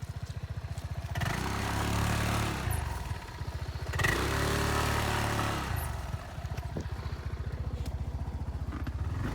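A motorcycle engine idles with a steady putter, then revs up in two surges before settling back to a rhythmic idle, close by.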